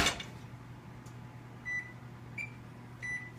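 Three short electronic beeps from an oven timer sound at a steady pace in a quiet kitchen over a low appliance hum, each one clear and close.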